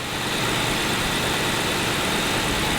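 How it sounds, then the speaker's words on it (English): A car engine with a slight misfire idles loudly and steadily up close, shaking, with a rough, uneven churn under the constant noise. "It's definitely got a slight misfire to it."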